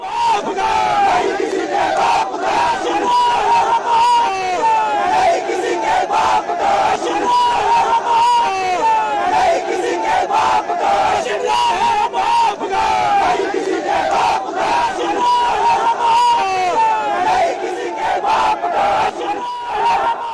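A large protest crowd of thousands shouts and chants outside a mosque, a loud, dense, continuous roar of many voices with rising cries throughout.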